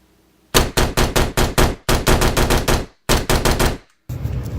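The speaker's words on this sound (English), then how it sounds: "we're gonna shoot the Glock 17 in the house" Glock 17 Gen 4 pistol fired indoors inside a house: rapid strings of loud, close gunshots in quick bursts, with short pauses between volleys and a final shot after a brief silence.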